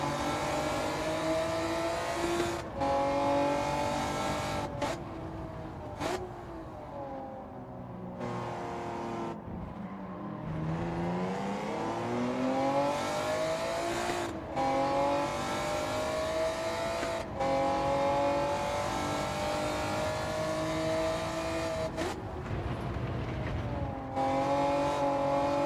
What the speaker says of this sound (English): The engine sounds really raspy.